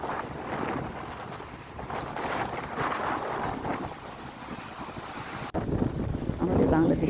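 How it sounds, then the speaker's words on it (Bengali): Strong wind roars steadily across the open sea shore at Marina Beach, Chennai, buffeting the microphone in a loud, continuous rush that shifts abruptly near the end. "সাগরের পারে কি শব্দ, বিপদ শব্দ, সব কান্না, শুশু শব্দ, বাতাস গর্জন করতেছে"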